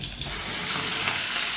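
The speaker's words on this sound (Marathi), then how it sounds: "आता छान परतून घेऊया आपण ही भाज्याने।" Chickpea greens sautéing in oil with mild green chillies and hing, a dense close hissing sizzle that builds slightly and holds steady, with faint stirring and no talk.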